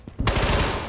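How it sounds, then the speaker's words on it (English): A loud burst of rapid automatic gunfire in the shooter game Ghost of Tabor starts abruptly after a short quiet moment, evenly spaced shots hammering close by and continuing to the end. "There's still people trying to shoot us."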